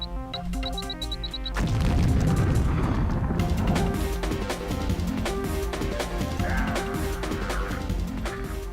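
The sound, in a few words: grenade explosion in video game Deus Ex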